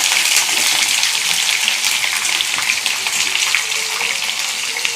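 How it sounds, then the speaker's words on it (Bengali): Small-cut potato pieces frying in oil while being stirred, a loud continuous close sizzle with scraping movement throughout and no talking. "ভেজে নেবো একটু নাড়াচাড়া করে, লাল লাল করে।"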